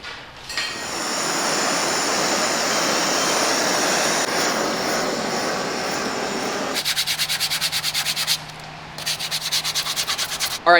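Continuous close rasping of body filler being sanded on a widebody Mercedes, a steady broad scrub that shifts into faster rhythmic back-and-forth strokes in the last few seconds.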